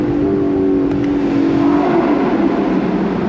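A 2024 Lexus LC 500 Convertible's 2UR-GSE 5-liter V8 engine, a loud, close, steady droning hum whose pitch slowly falls as it eases off, with no talk.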